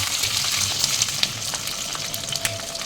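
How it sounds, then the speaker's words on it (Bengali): Potato pieces fry in hot oil, producing a loud, continuous close sizzle with crackling pops and faint stirring scrapes throughout, with no one speaking. "আলুটা একটু তেলের মধ্যে ফ্রাই করে নেব।"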